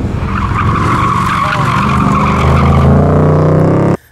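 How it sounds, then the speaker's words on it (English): Ford Mustang tires squeal hard during autocross, a loud, close, sustained screech over engine roar that climbs near the end and then cuts off sharply. "I'm just basically just pushing through and making all kinds of tire noise."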